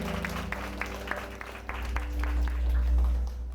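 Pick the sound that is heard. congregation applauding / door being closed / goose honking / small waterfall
congregation applauding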